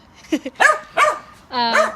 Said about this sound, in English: So you're probably gonna hear her bark a lot.